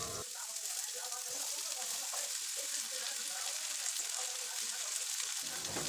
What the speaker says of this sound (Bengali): এখন আমি কেটে রাখা লাউগুলো দিয়ে দেব